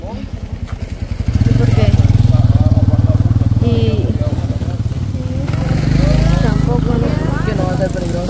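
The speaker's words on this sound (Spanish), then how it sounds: "Como aquí en la calle central, pasan de todo. Van a ir. Pasan motos" Motorcycles passing along a town's main street, their engines rising loud and close for several seconds then easing back before another swells up, with people talking over the traffic.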